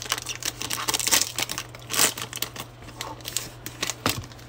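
Foil Pokemon Hidden Fates card packs crinkle and tear open in close, continuous bursts of rustling, with a few louder crackling peaks over a steady low hum.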